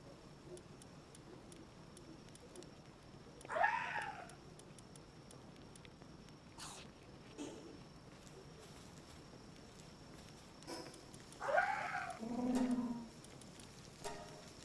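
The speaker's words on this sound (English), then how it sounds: "My kitty cat's here, guys." Two short meows sound a few seconds apart, soft and close, against a faint room hum with quiet rustling between them.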